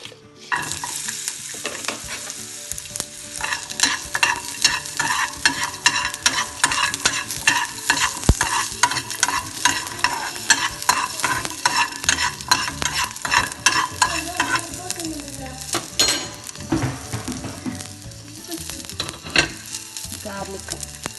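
Garlic fries in hot oil with a loud, crackling sizzle and frequent stirring scrapes, sustained and close throughout, for an onion and red chilli chutney.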